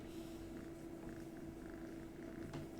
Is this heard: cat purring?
yes